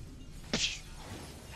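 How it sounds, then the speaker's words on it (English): A video game glass panel shatters under a Force grip attack, one sharp crash with a bright tinkling burst, loud and close, then fading quickly into quiet ambience. "Now prove your mastery of grip by using the object to smash through these three glass"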